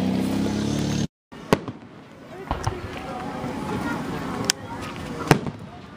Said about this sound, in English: we're finally uptown to watch the fireworks